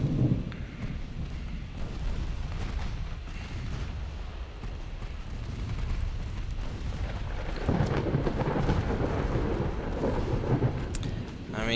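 Rolling storm noise from the naval warfare game Ultimate Admiral Dreadnoughts: steady rumbling thunder and rain-like wash throughout, swelling louder near the end, with heavy low booms mixed in at moderate level.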